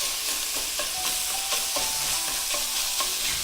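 Sliced sausage browning in a pan for a sausage and white bean stew, a steady close sizzle with repeated scraping stirs of a utensil through the meat, no voices.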